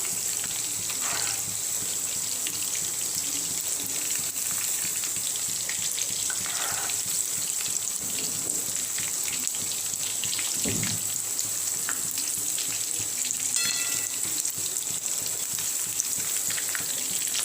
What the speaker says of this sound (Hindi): इस तरह हमें सारा चिकन फ्राई कर लेना है।